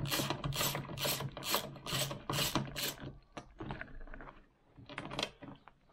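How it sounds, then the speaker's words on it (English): A bolt under the armrest of a 1971 Range Rover door pull handle is undone with a ratchet, giving a quick run of even, close clicks followed by scattered lighter clicks and rubbing, with no talk. "you just undo the bolt that's hidden underneath the"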